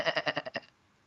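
Sheep bleating sound effect, one quick wavering bleat with several rapid pulses, close and loud, standing alone before fading out.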